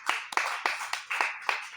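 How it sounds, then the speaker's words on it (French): Rhythmic hand clapping from a church congregation, about seven sharp, evenly spaced claps close by in under two seconds, with no talk over them. "Il faut applaudir pour lui."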